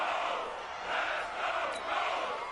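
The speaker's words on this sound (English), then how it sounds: "the crowd getting into it as we come up on a big third down" A stadium crowd in the Madden NFL 20 football video game roars steadily ahead of a big third down, a dense and continuous swell of cheering that rises and falls slightly throughout with no break.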